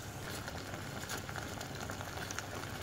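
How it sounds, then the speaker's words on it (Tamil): Water bubbling at a steady rolling boil in a pot for blanching spinach, a continuous dense crackle and hiss with no talking. "அந்த தண்ணி நல்லா கொதிக்குது இல்லைங்களா"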